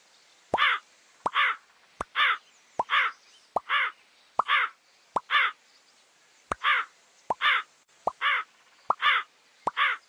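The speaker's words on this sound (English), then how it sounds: "The crow is a bird of black color." Repeated crow caws from an educational animal game: eleven evenly spaced harsh calls, each one preceded by a brief click, loud and close against silence, with no talking.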